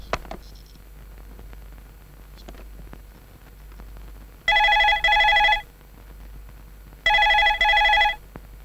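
Two bursts of a telephone bell ringing, each a pair of loud double rings, over a quiet room with faint background noise and no talk.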